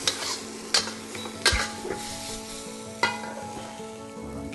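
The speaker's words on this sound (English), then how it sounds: "You want to have a very hot wok with the beef." Beef and bitter melon stir-fry in a very hot wok with a continuous close sizzle, marked by several sharp metallic scrapes and clanks of a spatula tossing the food.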